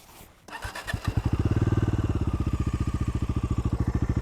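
A Bajaj Dominar 250 motorcycle engine cranks over and catches, then settles into a steady, loud, rapid idle thumping close by.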